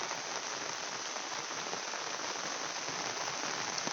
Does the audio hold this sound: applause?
no